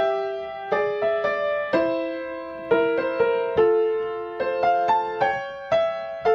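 Solo stride piano: bouncing bass and chord pattern with a single added melody note on top, played at a moderate, steady pace.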